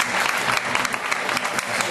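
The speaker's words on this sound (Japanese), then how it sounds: "最後 D、初芝清選手だと思う方、拍手をどうぞ" An audience claps together to vote for an answer in a Marines baseball quiz, a dense, steady burst of applause with no break, fairly close and full.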